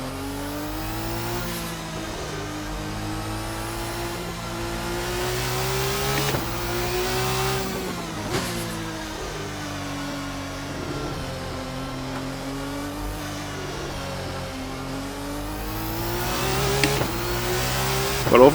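Race car in Assetto Corsa with the Race Sim Studio RSS 2 mod, its engine revving loud and close, pitch climbing and dropping through repeated gear changes with no talk.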